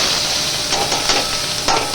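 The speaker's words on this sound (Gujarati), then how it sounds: "હવે ડુંગળી ટમેટાનો વઘાર કરી દઈશું." Onion and tomato go into a hot tempering of mustard seeds, cumin, turmeric and asafoetida in a pan, giving a steady close sizzle with brief stirring scrapes and no voices.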